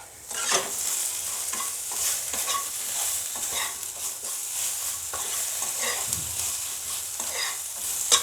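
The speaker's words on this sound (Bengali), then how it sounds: "এখন আমি সবটাকে একসঙ্গে ভেজে নেব।" Spices and fish head being stir-fried in a pan, a steady sizzle broken by repeated scraping and stirring strokes, close and alone without talk.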